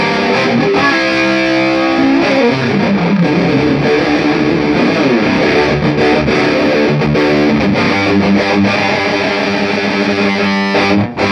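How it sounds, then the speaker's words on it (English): Heavy metal riffing on a distorted electric guitar through a budget Behringer digital delay set very short, doubling the part so it sounds like two guitars; loud, dense and continuous throughout. "we want a really short delay so that it sounds like there are 2 guitars playing at the same time"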